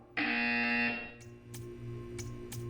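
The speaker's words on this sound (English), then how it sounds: "You will hear a buzzer." A loud, steady electronic buzzer in a video game sounds for about a second and then cuts off, followed by quieter hums and a few brief synthetic tones.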